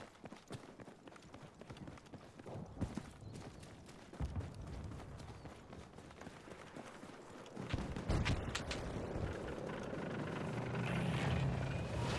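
A helicopter in Battlefield 6 thumps and roars faint at first over battlefield noise, then grows steadily louder and closer as its rotor wash fills the scene.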